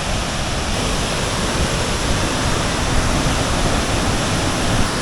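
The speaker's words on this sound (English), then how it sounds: "Here's Montmorency Falls, a big waterfall." Montmorency Falls, a large waterfall, gives off a dense, constant broadband roar, steady and loud throughout with no pauses and no voices.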